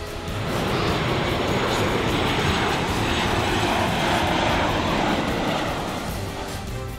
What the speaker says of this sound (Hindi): एक बार फिर अमेरिका का एक विमान ताइपे में लैंड हो गया